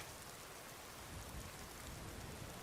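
Steady medium rain falling in the Skyrim video game with a weather mod, a dense, even hiss of drops on surfaces continuing throughout at low volume, no voices.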